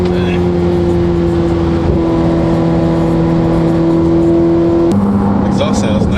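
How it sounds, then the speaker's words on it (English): A modified Ferrari F8 Tributo with aftermarket exhaust and tune revs loudly, sustained engine tones holding steady then shifting pitch mid-clip, close and continuous with people talking over it. "Exhaust sounds nice. It doesn't drone either."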